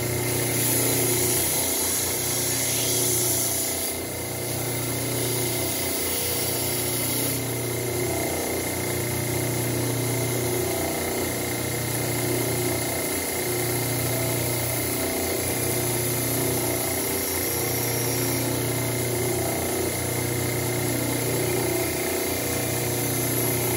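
A steady mechanical whine and hum of a power sander shaping a wooden ukulele neck runs continuously, loud and close, with a faint rhythmic pulsing in the low end.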